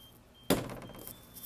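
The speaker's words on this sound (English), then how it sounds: "And we can reset the door." A door released and reset after a Simplex 4010 fire alarm test, one sudden solid thunk followed by a brief rattling decay, heard indoors at moderate level over a quiet room with a faint steady tone.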